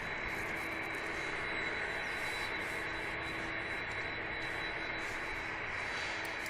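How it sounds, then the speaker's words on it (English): A Gulf Air airliner departs Manchester Airport with a steady, distant jet engine roar that holds constant throughout, unmixed with talk. "So the Gulf Air just departed"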